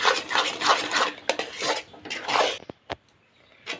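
A spoon stirs a coconut semolina sweet mixture in a pan, scraping and clinking in close rhythmic strokes before slowing to a few separate knocks against the metal.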